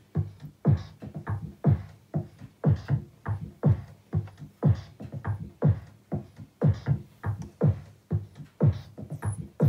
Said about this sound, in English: if I increase the clock going in, it will modulate the pitch